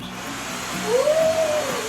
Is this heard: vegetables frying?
no